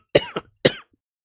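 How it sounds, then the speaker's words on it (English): A person coughs three times, two quick coughs close together and then one more after a short pause, near and fairly loud. The coughing comes from someone who has just tried a strong cologne. "I'm not coughing because of the fragrance."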